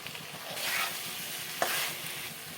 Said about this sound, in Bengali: ডিমগুলো আস্তে আস্তে করে নেড়ে নেব